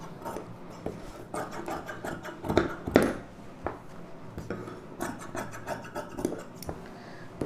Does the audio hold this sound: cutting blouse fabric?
yes